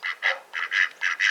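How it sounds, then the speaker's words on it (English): Ducks on an Australian homestead quack in six loud, evenly spaced bursts, close by and with no talk over them. "Whereas the ducks over there,"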